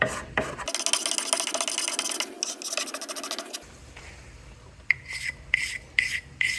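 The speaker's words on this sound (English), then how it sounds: "take a hacksaw blade and to just kind of go back and forth on this thing. Just kind of scratch this thing up" A hacksaw blade is dragged back and forth across a wooden longbow piece to rough up the surface for glue, giving a loud continuous rasping scrape followed by several shorter, sharper strokes.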